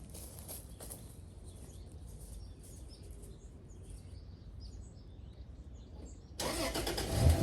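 An old Toyota Land Cruiser cranks and fires up near the end, its engine catching loudly after a stretch of quiet outdoor ambience with faint birdsong.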